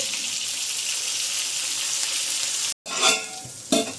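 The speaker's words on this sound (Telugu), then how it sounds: "ఇప్పుడు మనము వెల్లుల్లి రంబలు గుడక వేసేద్దాము" Garlic cloves hit hot oil for a homemade pachadi, giving a loud, dense, continuous hiss. It cuts off briefly, then returns with near clattering stir strokes, and no one speaks.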